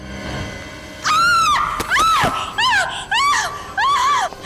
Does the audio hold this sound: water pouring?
no